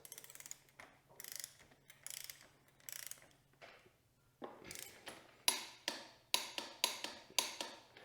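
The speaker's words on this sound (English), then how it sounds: "the last thing we need to do is torque this down, and this is going to be at 51 foot-pounds" A torque wrench ratchets in a steady series of clicks while tightening the swingarm bolt on a Yamaha YZ 250FX dirt bike, the clicking strokes growing sharper and louder near the end.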